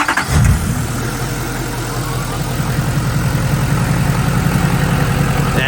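A Duramax diesel truck engine with a 5-inch exhaust settles into a loud, steady idle after a brief start-up rumble, a deep continuous throb close by with no voices.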